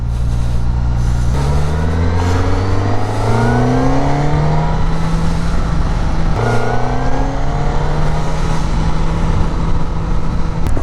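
A Suzuki GSX-S 1000 GX motorcycle engine accelerates hard through the gears, its rising roar dropping in pitch at each shift, loud and close throughout.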